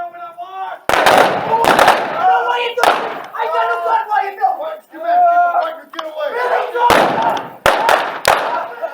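Several sharp gunshots ring out during a staged Old West gunfight reenactment, loud blasts in small clusters between stretches of shouted voices from the performers.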